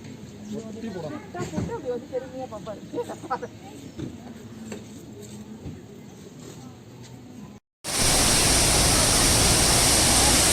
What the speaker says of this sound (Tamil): கொடைக்கானல் சில்வர் ஃபால்ஸு இப்படி மழை இப்படி தண்ணி கொட்டி பார்த்ததே இல்லை